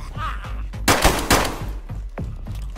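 Gunfire rings out in the survival video game DayZ, with rapid automatic bursts and sharp single shots cracking loudly in a dense cluster, then trailing into scattered reports.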